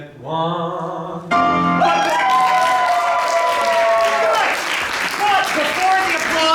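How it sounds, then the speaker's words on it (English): Audience applause at a staged reading of a musical comedy, a dense sustained wash of clapping that swells in after a sung line and stays loud, with sung or spoken voices continuing over it. "But before the applause could even finish"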